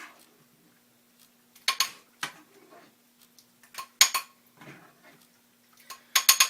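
Slotted spoon lifting onions out of a pan while cooking: sparse metallic clinks and scrapes in irregular bursts, a few sharp taps separated by quiet gaps.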